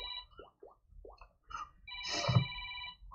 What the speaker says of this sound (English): We got the phone ringing now, but it won't answer